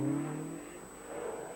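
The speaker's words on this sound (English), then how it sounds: "Pond's TR7 starts the 2nd loop" A Triumph TR7 rally car accelerates on a British rally stage. Its engine note is loud and close at first, then fades away and rises again slightly, with no voices heard.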